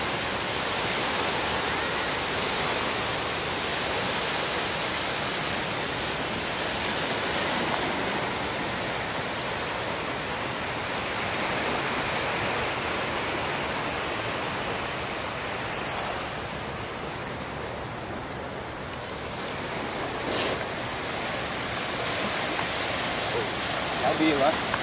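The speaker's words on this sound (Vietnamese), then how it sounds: "Biển này mà ai mà dám tắm." Sea waves crashing on a shore, a steady, loud, broadband roar of surf that continues through the whole stretch with only slight surges.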